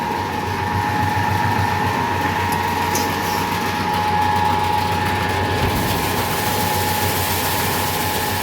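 An OVS-25 grain cleaning and sorting machine runs with a steady, loud mechanical drone and a constant hum, shaking slightly as grain pours through it. The noise stays even and continuous throughout, with no talking.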